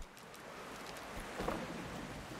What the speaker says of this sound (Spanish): La lluvia apaga el fuego,